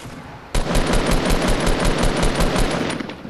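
Rapid automatic gunfire during a player fight in the video game Fortnite: a loud, fast, steady stream of shots that starts abruptly and runs for about three seconds, no talk.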